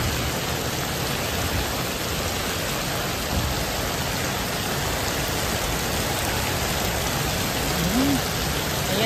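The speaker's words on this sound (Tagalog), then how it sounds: "ang lakas ng ulan" Steady, dense hiss of heavy rain pouring without a break, loud and close, with no voices.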